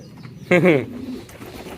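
A single pigeon at a pigeon market gives one short, close, resonant coo in the middle, set against a faint background murmur.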